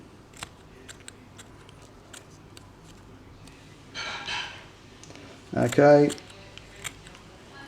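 Scissors cut cloth for a Bandai 1/12 trooper figure in two short, quiet snipping bursts, with a soft word spoken and faint ticks around them.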